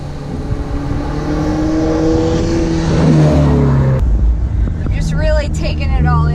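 Ferrari Portofino convertible cruising on back roads in San Francisco, its engine rising and falling through gear changes, loud from the cabin, with talk over the last couple of seconds.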